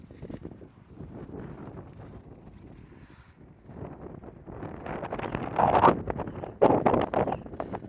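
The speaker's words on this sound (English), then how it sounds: "It's a little bit windy" Wind gusts across a microphone beside an eleventh-century Anglo-Saxon churchyard in Thursley, Surrey, on a raw February day, a steady low rumble that swells louder toward the end.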